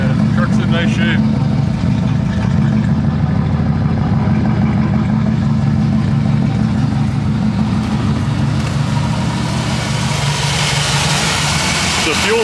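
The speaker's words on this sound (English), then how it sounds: "Three-inch exhaust, no muffler." A turbocharged TBI 5.7 (350) truck engine idles loudly and steadily through a three-inch exhaust with no muffler, giving a continuous close, throaty low rumble throughout.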